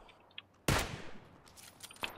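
A single sharp gunshot from PUBG (PlayerUnknown's Battlegrounds) rings out near the middle with a long decaying tail, followed by fainter thumps and clicks, with no talking.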